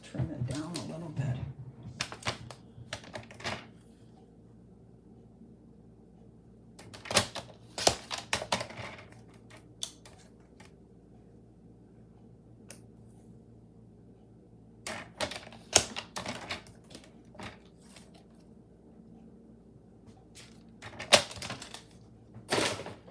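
Greeting card paper being trimmed: clusters of crisp, close cutting clicks and snaps separated by quiet pauses, repeating in short bursts over the stretch.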